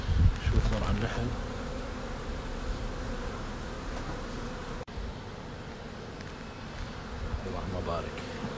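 Honey bees swarm and buzz continuously around a sidr tree apiary in Kuwait, a dense close hum filling the whole scene with faint outdoor noise beneath it.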